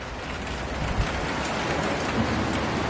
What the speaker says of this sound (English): I got to get you guys under cover because the rain is here.